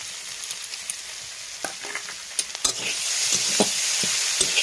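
Papaya, potato and tomato frying in a pan with flour, turmeric and chili powder stirred in, a low steady sizzle punctuated by scattered scrapes and taps of the spoon, rising slightly toward the end.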